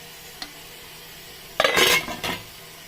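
A metal lid clinks and rattles onto a pot of cooking beans and onions, a faint tap followed by a brief, close clatter and a smaller second clink.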